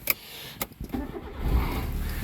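A Sunny car engine cranking and catching, with a brief starter whir followed by the engine settling into a steady low idle, close and fairly quiet.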